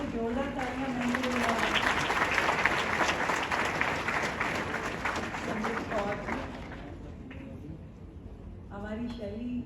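Applause from a college annual day audience fills most of the stretch, steady and dense, fading near the end while someone speaks over it at the start and close.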